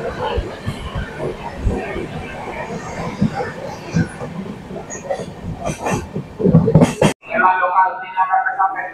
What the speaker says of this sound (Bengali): আমাদের ট্রেন এখন বর্ধমান জংশন ঢুকছে